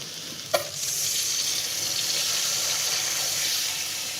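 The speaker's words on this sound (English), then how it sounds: "Let's fill it up with water now." Water runs steadily from a kitchen tap into a soup pot for cauliflower and tomato soup, a continuous hissing rush after a brief knock at the start, close and alone with no talking.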